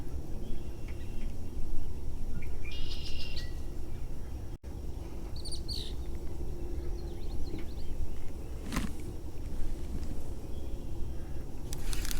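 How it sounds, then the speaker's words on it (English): Red-winged blackbirds and cardinals singing outdoors beside a fishing spot, scattered chirps and short calls at moderate distance over a steady low background hum, no talking. "Red-winged blackbirds, cardinals, you name it, the birds are out here."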